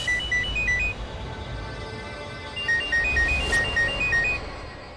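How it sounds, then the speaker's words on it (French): A mobile phone rings with an incoming call, its bright electronic ringtone repeating a short melodic phrase in two bursts over a low background rumble, with no talking. "C'est mon époux qui est en train de m'appeler."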